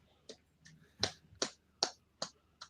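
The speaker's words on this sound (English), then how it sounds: "Who the fuck is clapping?" Hands clap about seven times in a loose, slightly uneven rhythm, each sharp crack close and distinct against a quiet background.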